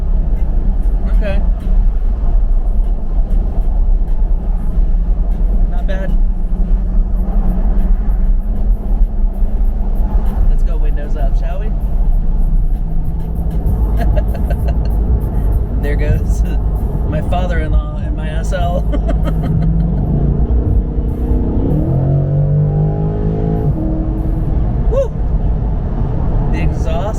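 A C8 Corvette drives down a city road, its steady engine and road rumble loud and continuous throughout, with a lower growl and pitch shifts near the end as it changes speed.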